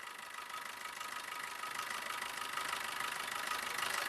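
A 2017 Maruti Swift VDI diesel with about 116,000 km idles with a steady, even hum that holds at a moderate, close level throughout and has no voices over it.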